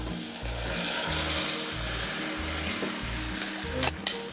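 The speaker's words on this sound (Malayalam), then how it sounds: "ഇതിലേക്ക് വേവിച്ച് വെച്ചിരിക്കുന്ന ബീഫ് ചേർക്കാം കേട്ടോ." Cooked beef being stirred into softened frying onions for a Kerala-style beef stew: steady loud sizzling with repeated scraping stirs in a regular rhythm, a couple of sharper knocks near the end, no voices.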